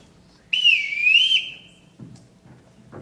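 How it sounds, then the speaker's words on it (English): A household summoning whistle gives one loud, sustained shrill blast of about a second with a wavering pitch, followed by faint shuffling and footsteps. "Everyone in this house answers to a whistle."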